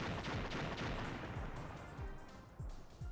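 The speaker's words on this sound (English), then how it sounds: "Way too many explosions" Explosions fill G Vector, a Sega Saturn shooter, in a dense, loud barrage of overlapping booms and crackling blasts that keeps rolling without pause, then thins slightly before a final sharp burst.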